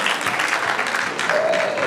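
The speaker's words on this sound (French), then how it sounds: "Moudjata Bénédicte avec vos applaudissements" Steady audience applause from a crowd at a school book festival event, dense and continuous clapping throughout, with a faint whistle-like tone rising near the end.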